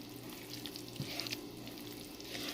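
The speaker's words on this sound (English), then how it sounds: "from when you start frying it" Ogbono sizzles and fries in a pot, a steady soft crackle with a brief stir or scrape near the middle.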